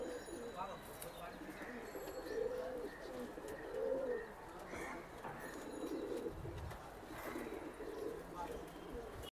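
Soft, low coos of a male pigeon repeat a few times over a steady background murmur, with faint chirps and voices nearby.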